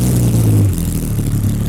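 A 2011 Porsche 911 GT3 RS (997.2) engine roars to life and holds a loud, deep rev before settling toward a rumbling idle, heard up close.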